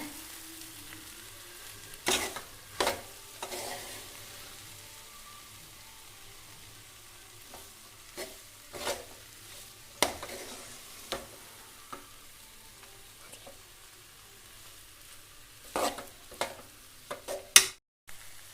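Mung beans being stirred in a pan for cherupayar thoran make a low, steady sizzle broken by scattered scraping clicks and knocks from the spoon.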